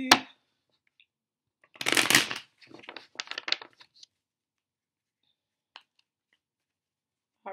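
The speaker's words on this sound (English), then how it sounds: "One more shuffle" Brief bursts of riffling and soft slapping as tarot cards are shuffled, coming in a couple of clusters with quiet gaps and a few faint clicks.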